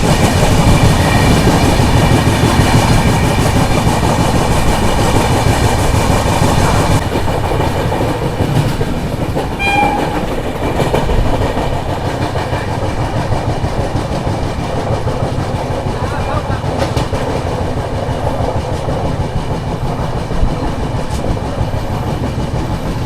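The Visakha Express, Secunderabad to Bhubaneswar, runs through Challapalli railway station without stopping, a loud continuous rumble of wheels and rattling carriages heard from on board with rhythmic clickety-clack over the rails.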